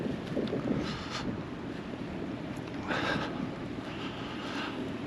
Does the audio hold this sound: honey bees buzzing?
no